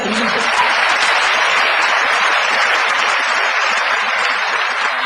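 A lecture audience in a university hall breaks into loud, dense applause, a steady wash of clapping that lasts several seconds, with a voice heard briefly near the start.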